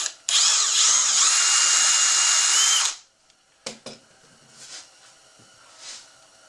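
A power drill drives bright brass screws into a bathroom vanity's doors, one loud steady whir of about three seconds, then a couple of short clicks and faint handling noises.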